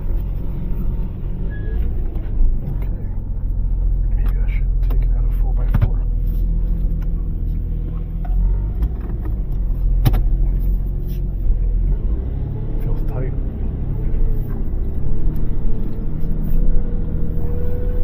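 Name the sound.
Nissan 4x4 vehicle engine revving while stuck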